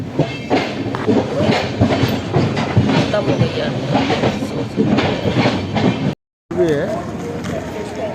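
A moving passenger train on the Delhi to Katra route, a steady rumble and clatter of carriage wheels throughout, with people talking loudly over it and a brief dropout near the end.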